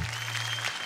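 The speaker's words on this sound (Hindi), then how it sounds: "करिश्मा कोलकाता के लिए जोरदार तालियां" Loud audience applause on a music reality game show stage, a short dense burst of clapping that carries through to the end.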